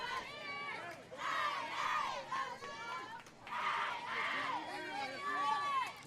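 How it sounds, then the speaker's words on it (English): Crowd cheering and shouting at a college softball game between Prince George and South Carolina, loud, excited bursts of many voices swelling and falling in waves. "A lot of cheering going on behind me"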